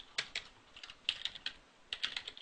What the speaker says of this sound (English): Gotta type that slow so I don't mess it up.